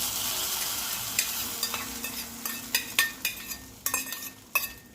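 Spices and curry leaves sizzle while tempering for sambar in a hot pan, with a spoon stirring and clinking against the metal several times, fairly close.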